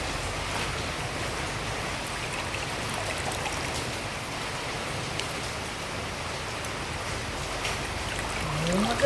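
Vegetables being rinsed and washed in water, a steady continuous splashing and trickling wash that runs evenly throughout, with a slightly louder swell at the very end.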